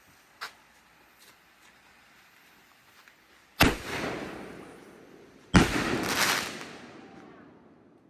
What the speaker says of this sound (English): The camera will be staring at the ground while the fireworks are going off.